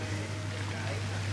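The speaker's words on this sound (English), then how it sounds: "on this directly on the dry spinach, I'm gonna put boiling water" Boiling water pours steadily onto dry spinach for lasagna with spinach and ricotta, a continuous close splashing rush with no break.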